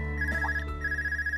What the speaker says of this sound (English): Okay. Phone call.